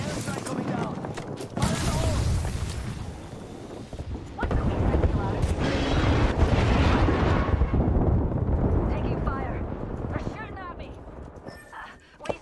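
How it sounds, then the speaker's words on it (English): An airstrike in Apex Legends pounds down as a series of loud, rumbling explosions and crackling blasts, bursts returning several times over roughly twelve seconds, with a voice talking beneath and between the impacts. "we got an airstrike coming down"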